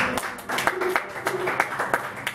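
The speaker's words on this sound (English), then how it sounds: "I don't feel like I need you guys to clap for it" A small audience claps after a told story, scattered uneven hand claps in loose bursts rather than full applause, fairly close with faint murmuring.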